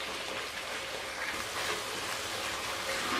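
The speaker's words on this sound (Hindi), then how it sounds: "और अब मैं इसकी मज़ीद भुनाई करूँगी" Spice masala with amchur powder fries for Lahori chickpea curry, a steady close sizzle and crackle that holds evenly throughout with no voices.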